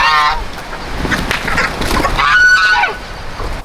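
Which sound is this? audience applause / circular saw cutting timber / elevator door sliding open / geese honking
geese honking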